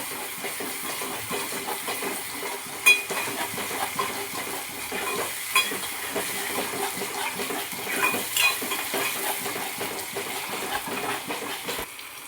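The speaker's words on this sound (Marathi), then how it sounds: "आता याला आपण छान असं मिक्स करून घेऊ" Egg curry base of onion and coconut paste being mixed in a pan, a continuous hiss and sizzle with irregular clinks and scrapes of a utensil against the pan, no voices.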